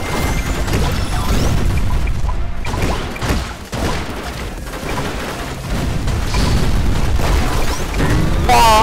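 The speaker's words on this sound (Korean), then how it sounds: "와, 폭탄." Bomb blasts and crashing booms from the video game Bubble Fighter, loud and dense with repeated explosive bursts and clatter over a busy game soundtrack, with no speech.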